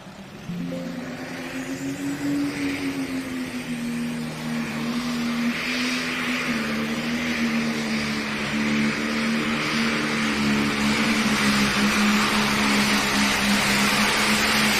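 A heavy pulling tractor called Loud and Heavy roars at an NTPA Grand National tractor pull in Hutchinson, Minnesota: a loud, sustained engine drone that holds a steady pitch and builds slightly for the whole run.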